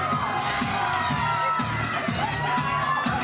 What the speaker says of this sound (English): you cheer on your favorite model up here